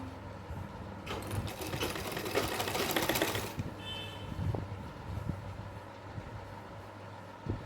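A sewing machine stitches a double seam on a small doll dress, a fast mechanical rattle running close and continuous with a busier stretch in the middle, then settling into a lighter hum.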